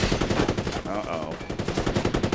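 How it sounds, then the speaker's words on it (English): Rapid automatic gunfire in The Division 2, a loud, rhythmic stream of shots that runs the whole time, with a brief whooshing sound in the middle. "Who else is out here shooting?"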